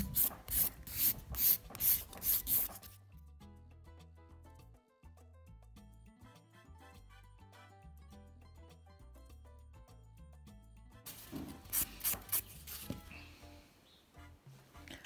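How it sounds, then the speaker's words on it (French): A nail file rasps across an acrylic gel nail extension, shaping it in quick rhythmic strokes, close and clear. A burst of strokes comes at the start and another near the end, with soft background music in between. "Ensuite, on va limer la forme."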